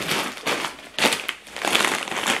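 Plastic supermarket shopping bag being handled up close, giving loud, rustling crinkles in uneven bursts that come and go.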